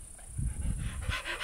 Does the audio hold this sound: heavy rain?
no